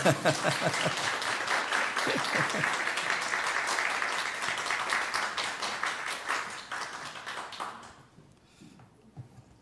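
A church congregation at a Sunday service in Bakersfield claps in a fairly even rhythm, a loud crowd of hands that thins and fades out near the end.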